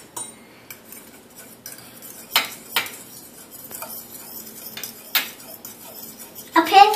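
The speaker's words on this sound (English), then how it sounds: "Yep, but you gotta stir it real good" A young child beats eggs in a bowl with a fork, giving repeated uneven clinks and taps of metal on the bowl, close and fairly loud, with a sharper clatter at the end.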